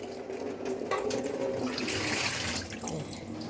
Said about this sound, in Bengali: এবার আমি গোপুসোনার স্নানের জলটা রেডি করে নিই, একটু গরম করে নিচ্ছি